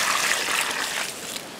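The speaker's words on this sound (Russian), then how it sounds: "Посажу и хорошо-хорошо полью." Water splashes and trickles steadily from close by as a freshly planted conifer in a garden gets a generous autumn watering, a continuous bright pouring hiss with no talk.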